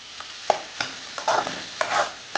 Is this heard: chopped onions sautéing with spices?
yes